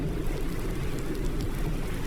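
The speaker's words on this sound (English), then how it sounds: "I've noticed it started raining." Steady rain falling in the Farming Simulator 19 video game, a dense, even hiss that holds without pause throughout, with no voices over it.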